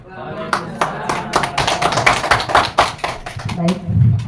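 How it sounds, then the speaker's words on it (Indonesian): An audience claps hands at a positive-culture dissemination session, with sharp irregular claps building into a loose burst of applause and a voice speaking briefly near the end. "berikan dong tepuk tangan sekali lagi buat kita dan juga buat CGP-nya. Tepuk tangan dong."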